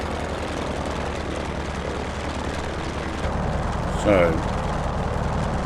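Steady propeller engine drone of a Grumman F4F-4 Wildcat taxiing in Microsoft Flight Simulator, running at constant level while someone briefly speaks over it.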